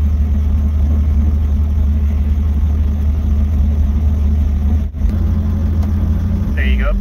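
A Robinson R44 Raven II helicopter piston engine runs steadily at close range during startup, a loud constant drone with a brief dip near the end.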